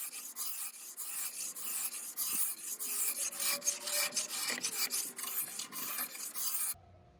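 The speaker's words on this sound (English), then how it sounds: "I used a specialty blade for my carbide scraper to get some of the curves on the front of the piece." A carbide scraper fitted with a specialty blade rasps across a wooden bar cabinet in repeated short strokes, a close, gritty scraping rhythm that stops abruptly near the end.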